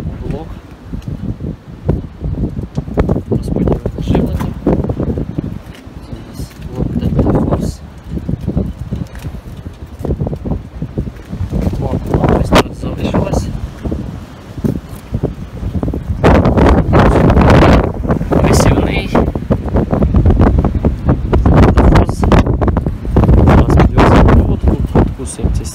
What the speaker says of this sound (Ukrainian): Вітряна погода.